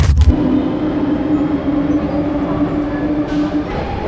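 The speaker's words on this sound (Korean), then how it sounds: "기차에 탔습니다." Interior of a double-decker passenger train near Paris, a loud continuous rumble of wheels on track with a steady droning hum and faint rattles throughout, opening with a brief sharp clunk.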